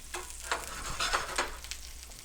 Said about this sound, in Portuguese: A gente verte a nossa frigideira e começa a regar em cima do nosso filé suíno